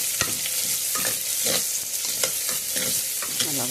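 Onions sizzle as they are stirred into hot oil in a pan, a steady frying hiss broken by scraping spoon strokes, close and clear with no talk.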